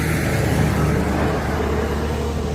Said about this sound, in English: Sorry about the traffic, but it's right on a major road here.